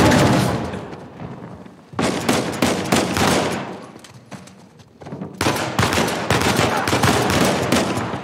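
Loud gunfire bursts during a shootout in Uncharted 4, with rapid automatic volleys and single shots in dense clusters. Short lulls fall between the bursts and a few voices come through faintly.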